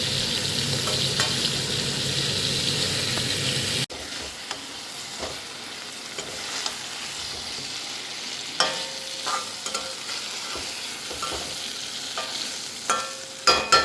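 Small whole pointed gourds, slit and seasoned with salt and turmeric, frying in a pan with a steady sizzle and occasional stirring clicks, louder at the start then softer, no voices.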